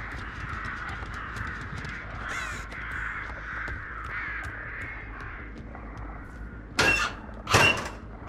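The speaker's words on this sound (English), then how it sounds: "the crow's cawing meant that there was someone here" A crow caws in the horror video game Billy, two loud calls near the end standing out over a steady background hum of game ambience.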